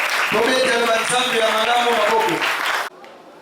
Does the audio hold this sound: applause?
yes